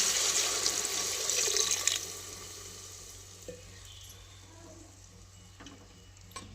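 Water is poured into a hot pressure cooker of sautéed potatoes and turmeric with a loud hissing rush for about two seconds, then settles into quieter simmering and occasional clinks.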